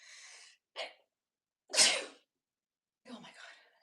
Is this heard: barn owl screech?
no